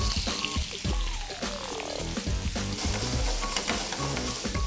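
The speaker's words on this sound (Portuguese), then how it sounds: "Aqui eu vou grelhar os camarões, vamos dar uma temperadinha com sal." Seasoned shrimp searing in a hot pan, a loud continuous sizzle and crackle with scattered spatula clicks and stirring, no voices.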